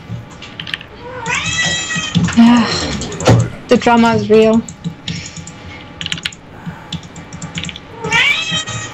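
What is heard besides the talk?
cat meowing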